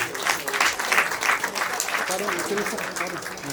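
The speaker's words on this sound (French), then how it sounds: "Est-ce qu'on peut également acclamer pour ce monsieur-là?" Guests at a traditional wedding applaud a man, steady clapping from a crowd filling the whole span at close range, with voices mixed underneath.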